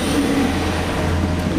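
A modern train that has replaced steam engines at Wolsztyn rolls past close by, a loud steady rumble of railcars with a low drone, a faint squeal of wheels and no talk.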